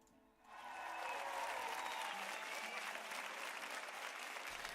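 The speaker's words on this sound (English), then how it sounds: "Let's give Jade a round of applause" A small group gives a round of applause, clapping that starts abruptly after a brief quiet moment and continues evenly for several seconds, fairly faint and without voices over it.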